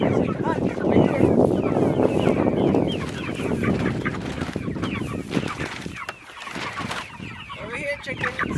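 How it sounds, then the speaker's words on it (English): Backyard chickens clucking close by in cold weather, with a busy stream of short clucks and calls over outdoor noise while adults and someone talk among them. "Over here, chickens."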